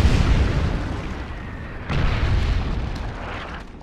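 Artillery strike explosions in the Call of Duty video game: two heavy, rumbling booms, the second landing about two seconds after the first, each followed by a long, rolling decay of debris and noise, with no voices.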